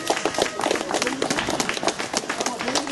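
An audience applauds the podium at a cycling race: dense, steady clapping fills the air throughout while an announcer speaks over it.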